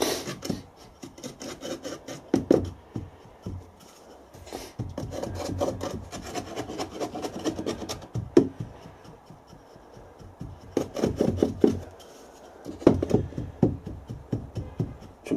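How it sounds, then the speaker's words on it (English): Casting sand being rammed and packed firmly around a pattern in a moulding box for bronze casting, heard as repeated rough scraping and rubbing strokes in irregular bursts, close and moderately loud with no talk. "the sand must be rammed down, packed nice and firmly around the pattern, especially in the corners of the boxes"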